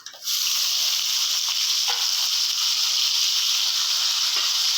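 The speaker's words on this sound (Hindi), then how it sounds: "हल्की आंच से इसको हम लोग भून लेते हैं।" Chicken pieces frying in a pan over low heat, a steady, close, loud sizzle that starts abruptly and continues evenly, with faint scraping touches now and then and no talk.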